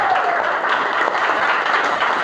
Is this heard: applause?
yes